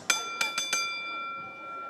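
At a professional boxing event, a ring bell is struck four times in quick succession, each a sharp metallic clang leaving a bright ringing tone that fades away.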